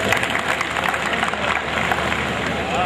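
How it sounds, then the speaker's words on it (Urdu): Audience applause welcoming poet Shabnam Ansari at a mushaira in Bhiwandi, a continuous crowd clapping that fills the hall for a few seconds, with faint voices beneath. "شبنم انصاری کا استقبال زوردار تالیوں سے"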